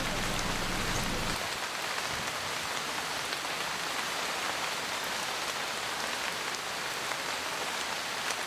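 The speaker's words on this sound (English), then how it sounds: "It even rains in paradise. We came back from our beautiful bathtub hike to rain." Steady rain patters on surfaces at a marine park anchorage in Princess Louisa, British Columbia, a dense continuous hiss that holds even from start to finish with no voices.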